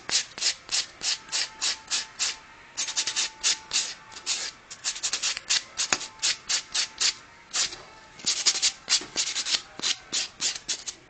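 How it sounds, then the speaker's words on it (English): Rapid scratchy strokes of a nail buffer rubbing leftover gel polish and base coat off fingernails, close and crisp in quick rhythmic bursts with short pauses between runs, no talking. "So I'm going to just buff it a little bit to get off the base and a little bit of excess gel that's left over."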